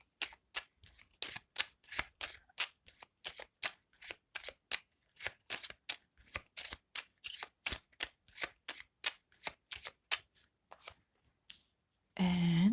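Tarot cards shuffled by hand, a long, steady run of crisp, close riffling slaps repeating roughly twice per second, with a brief noisy rustle at the end.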